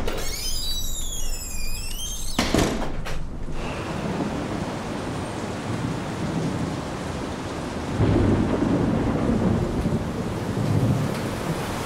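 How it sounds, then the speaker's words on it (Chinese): A thunderstorm with rain: a sharp crack of thunder breaks out early, followed by a low rumble over a continuous wash of falling rain that swells and fades. "下雨了。"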